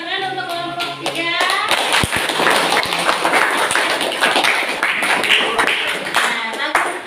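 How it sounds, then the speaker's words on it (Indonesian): Classroom applause for a student group after their presentation, a dense burst of many hands clapping that fills the room steadily throughout, with a voice speaking briefly at the start. "beri tepuk tangan untuk kelompok 3"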